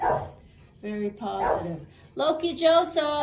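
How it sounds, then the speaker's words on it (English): A dog barks and yips close by indoors, several short sharp barks mixed in with a woman's speech. "Sorry about the dog."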